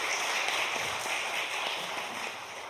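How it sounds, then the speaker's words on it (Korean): A church congregation at a Korean Sunday worship service gives a visiting pastor a dense round of hand clapping. The applause is steady and fairly loud, then fades slightly toward the end, with no voices over it. "박수로 환영합니다"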